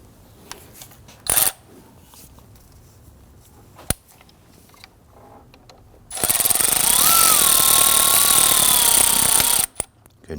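A power driver tightens a hose clamp screw on a 2009-2017 Volvo XC60 air intake tube: a loud whirring burst of about three seconds after a few light clicks and a brief buzz.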